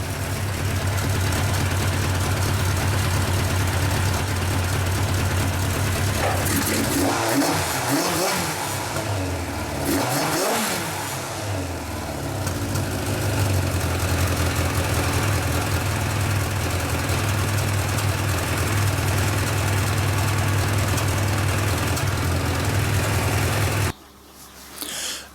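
A Yamaha FJ1200 motorcycle engine idles steadily and close for a long stretch after carburetor synchronization, with a couple of brief revs early on before settling back to a steady rumble.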